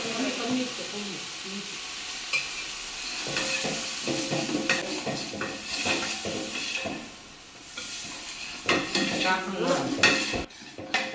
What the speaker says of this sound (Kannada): ಪಾತ್ರೆ ಇಟ್ಬಿಟ್ಟು ಎಣ್ಣೆ ಹಾಕಿ ಅದಕ್ಕೆ ಇವಾಗ ಶುಂಠಿ ಬೆಳ್ಳುಳ್ಳಿ ಪೇಸ್ಟ್ ಹಾಕಿದ್ದೀನಿ